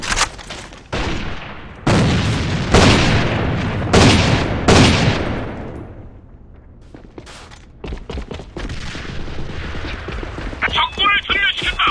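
A rapid series of loud, close explosive blasts and gunfire bursts in the online shooter AVA, with a grenade blast among them, then scattered shots and clatter as the action continues.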